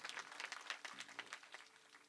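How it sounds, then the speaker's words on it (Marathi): An audience at a kirtan devotional performance applauds the two accompanying musicians, a brief burst of many scattered hand claps heard faintly and at a distance. "आपण दोन्ही वादकांकरता एकदा जोरदार टाळी वाजूया."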